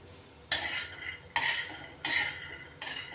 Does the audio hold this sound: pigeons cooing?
no